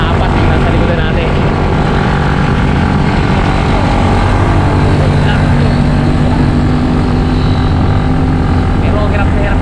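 Heavily loaded motorcycles climb a steep hill, their small engines droning hard and continuously close by, while someone talks over the noise.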